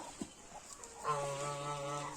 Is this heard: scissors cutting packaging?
no